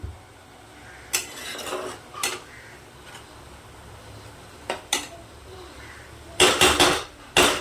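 A spice paste for an egg dish is stirred in a pan over a gas flame. Metal utensil clinks and scrapes come in scattered bursts, closing with a cluster of rapid clatters over a low background hiss.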